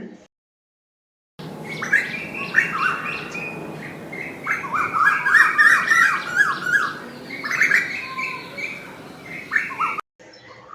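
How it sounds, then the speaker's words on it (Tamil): An Asian koel gives a series of loud, repeated calls close by, set against a busy background of other birds' chirps and squawks. "குயில்,"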